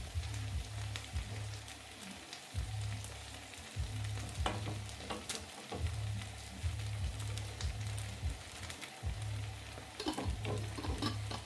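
A sauce simmers in a pot over a camping stove outdoors, a steady bubbling sizzle with soft popping, backed by a pulsing low burner hum throughout, no talk.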